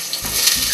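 Chopped onion dropped into hot cooking oil in a home kitchen, a sudden loud close sizzle that bursts on and holds as a dense hiss, with no talking.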